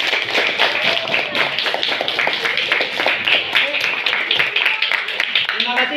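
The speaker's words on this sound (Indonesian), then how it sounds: "tepuk tangan." A crowd of schoolchildren claps together in a dense, continuous burst of applause, with a few voices mixed in underneath.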